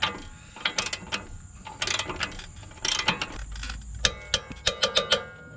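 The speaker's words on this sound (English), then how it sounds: "Torque wrench going here." Ratcheting torque wrench cranking a 19 mm bottom strut bolt up to 155 foot-pounds, a run of sharp close metallic ratchet clicks in quick bursts, growing more clipped toward the end.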